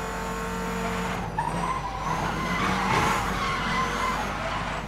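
A car drifts with sustained, loud tire squeal over a roaring engine in Need for Speed Most Wanted, the screech wavering in pitch and swelling midway through.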